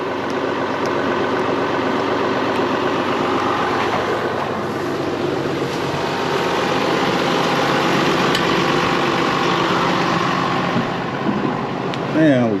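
A farm tractor engine runs on an Iowa farm, a loud, steady, rumbling drone that holds without a break for the whole stretch.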